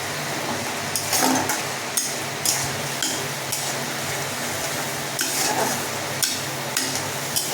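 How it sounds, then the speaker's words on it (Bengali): Potato and pointed gourd sautéed with ground chilli, coriander and spices over high heat, a continuous sizzle punctuated by regular scraping and clinking of a spatula against the pan, steady and close, without talk. "এবার ভালো করে এটা কষাতে থাকবো"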